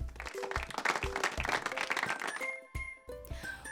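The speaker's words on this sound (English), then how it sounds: "Everyone clapped for Boaz being such a loving helper to his family." An audience claps in a steady round of applause for Boaz, brisk and moderately loud, with musical tones mixed in underneath as the clapping fades out toward the end.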